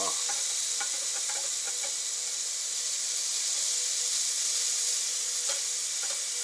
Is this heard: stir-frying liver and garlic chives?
yes